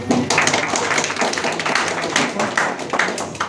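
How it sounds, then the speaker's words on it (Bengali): An audience at a seminar claps together, a dense run of overlapping hand claps that keeps going at a steady level for several seconds at moderate loudness. "আবারও করতালি দিতে চাই।"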